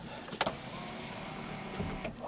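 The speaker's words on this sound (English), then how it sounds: "And we've got electric sunroof, that works." The electric sunroof motor of a Porsche 911 996 whirs steadily for a couple of seconds, with a few faint clicks and clunks from the mechanism, heard close up inside the cabin.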